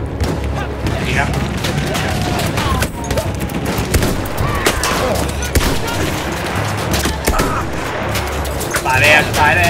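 Battlefield 1 gunfire crackles as rapid, dense volleys of shots and machine-gun bursts with occasional heavier booms, loud and continuous, with someone talking over the battle.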